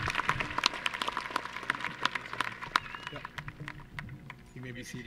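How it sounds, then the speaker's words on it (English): A graduation ceremony audience claps for the top senior scholars' speeches in a moderate, uneven round of applause with distinct close hand claps, while a voice talks over it faintly near the end. "How about one more round of applause for those speeches?"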